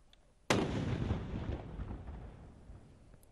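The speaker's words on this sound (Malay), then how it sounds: "petang kemarin 12 das tembakan meriam dilepaskan di ibu negara" A single ceremonial cannon shot fired by military police in Brunei's capital to welcome Ramadan booms out suddenly and loudly, then rolls away in a long, fading rumble over about three seconds.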